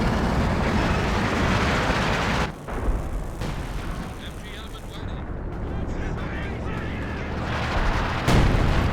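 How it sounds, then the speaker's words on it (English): Katyusha rocket artillery barrage in Company of Heroes 2, a dense, rumbling roar of rockets and impacts filling the whole stretch, with a brief dip partway and a louder burst near the end, likely under faint voices. "Close call on the piles, but they do escape that Katyusha barrage."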